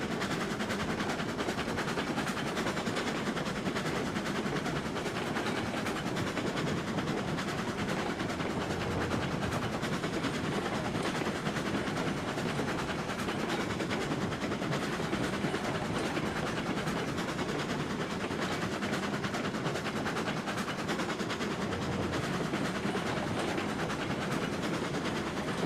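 Steady rumble and rhythmic rail clatter of a train rolling along track at about 20 miles an hour in RAILROADS Online, loud and continuous for the whole stretch with no voices.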